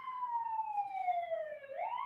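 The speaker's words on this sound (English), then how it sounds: "And now I'm having sirens." A faint wailing siren sweeping slowly down in pitch, then rising again, distant and steady, with no voices.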